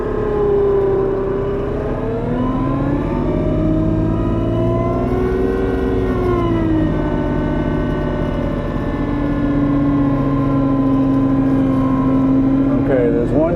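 A vehicle drives beneath low-cut trees in a backyard maple sugarbush, its loud close engine droning continuously and rising and falling in pitch as it moves along.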